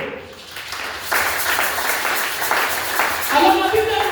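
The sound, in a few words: congregation applauding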